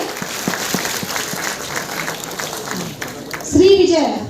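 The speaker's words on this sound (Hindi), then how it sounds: "जोरदार तालियां सभी के लिए।" An audience at a job fair at BHU gives a round of applause, moderate clapping under some murmured voices, closing with a brief louder swell of crowd noise.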